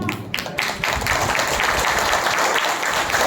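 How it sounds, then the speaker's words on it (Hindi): A church congregation claps together as an offering of thanks to God, loud dense applause with rapid overlapping hand claps filling the whole stretch, beginning with a few separate claps. "अगर आपको लगता है कंजूस नहीं हो तो जितना ताकत है पूरा ताकत से प्रभु को धन्यवाद देना, इसीलिए हम ताली बजाता है।"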